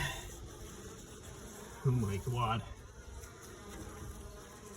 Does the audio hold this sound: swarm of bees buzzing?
yes